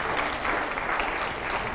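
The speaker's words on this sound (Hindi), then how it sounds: "जरा जोरदार तालियां हो एक बार" Brief, dense audience applause fills a studio at a political interview show during a rapid-fire round, rising as a steady wash of clapping without pause.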